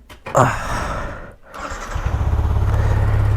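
Motorcycle left unused for three days starting up: a brief cranking burst, a pause, then the engine catching into a steady, close, pulsing idle with a throbbing low rumble.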